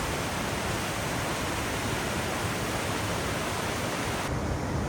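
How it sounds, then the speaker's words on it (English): A waterfall in the Columbia River Gorge roars with a dense, steady rush of falling water, loud and unbroken from start to finish. "Can't get enough of these waterfalls."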